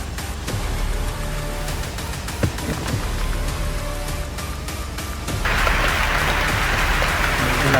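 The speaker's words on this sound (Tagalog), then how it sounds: "Ulan pa." Steady rain falls outdoors during a rescue search, a continuous hiss of drops that grows noticeably heavier and brighter toward the end, with one brief knock partway through and no voices.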